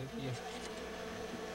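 Bees buzz around a hive lifted from the Amazon rainforest, a faint continuous drone of many insects close by, steady throughout with no talk.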